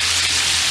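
Floured chicken pieces frying in hot oil in a cast iron pan give a steady, close, dense sizzle with no talk over it.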